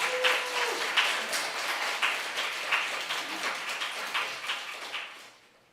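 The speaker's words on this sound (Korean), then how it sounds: "환영의 큰 박수 부탁드립니다" Audience applause in a church family worship service welcomes a young speaker, with a crowd clapping in a steady, rhythmic patter that stays fairly even before fading out toward the end.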